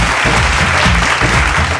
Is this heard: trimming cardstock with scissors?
no